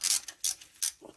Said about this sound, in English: with the ratchet.